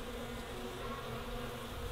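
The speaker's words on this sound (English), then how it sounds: "there are bees everywhere" Honeybees at a summer cabin buzz around close by in a steady, continuous drone that hums softly and evenly with no voices.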